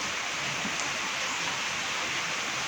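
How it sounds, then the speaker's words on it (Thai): Heavy rain pours down steadily on a cool day, a dense, even hiss that fills the whole stretch without a break and with no voices over it. "ฝนตกแรงมากเลย"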